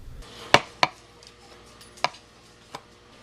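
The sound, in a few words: tearing apart clay pieces by hand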